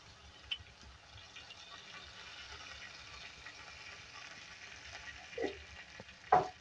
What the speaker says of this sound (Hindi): यहाँ जाएगी प्याज, हल्का फ्राई होने देंगे।